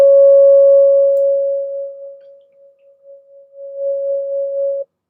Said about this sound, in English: And then we're going to move up to the second harmonic.